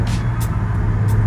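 An Infiniti G35 engine with a short shifter runs through a gear change, giving a steady, close low drone with a few brief airy bursts riding on top.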